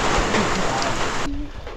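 Heavy rain pours down over a village in Jakhama, Nagaland, a dense steady roar that fills the first second and a bit before abruptly dropping to a softer patter near the end.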